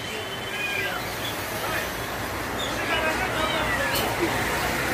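Cat meows rise now and then through a steady crowd hubbub at a Katabon animal market in Bangladesh, where kittens are shown, among them a two-month-old all-white female. Voices and market chatter run close throughout.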